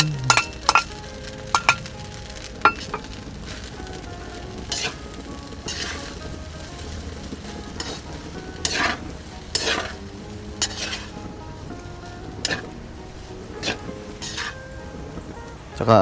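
Egg fries in a pan for a liempo chao fan, a soft steady sizzle punctuated by sharp clinks and scrapes of a metal utensil stirring against the pan at irregular intervals.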